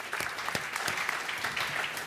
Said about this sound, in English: First round of applause for Meetos.